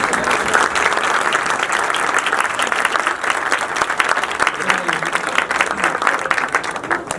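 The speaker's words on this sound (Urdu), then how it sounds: "آئے خدا کے کلام کو تالیوں کے ساتھ ویلکم کریں۔" A church congregation claps loudly to welcome the scripture reading at a live Christmas service, producing a thick, continuous wash of applause that stays strong throughout.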